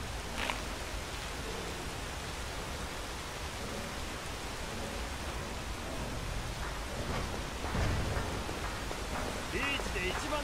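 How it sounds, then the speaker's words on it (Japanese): Steady rain falls over the city of Markarth in the video game Skyrim. It makes an even, hissing wash that holds constant throughout, with a faint low rumble near the end. "しかも雨が降っている。"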